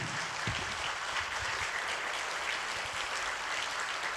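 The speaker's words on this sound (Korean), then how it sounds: "우리 뜨거운 박수로 환영해 주시기 바랍니다" A church congregation at a revival meeting applauds to welcome a pastor, with dense, steady clapping filling the space at an even level throughout, no voices standing out.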